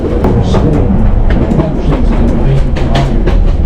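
A 140-year-old cliffside train rumbles loudly as it starts to move, with a steady clickety-clack of wheels over the rails, heard from close by.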